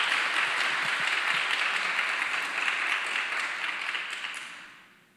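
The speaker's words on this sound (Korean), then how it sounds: "우리 박수로 한번 격려해 주시죠." An audience applauds to encourage a guest who has risen from his seat at a church gathering: a sustained, even wash of clapping that holds steady, then fades away toward the end.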